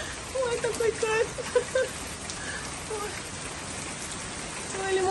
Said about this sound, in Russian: Ой, такой сильный дождь.